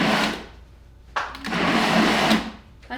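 A blender whirs through homemade salsa made with home-grown tomatoes, running in loud pulses with a short pause between bursts.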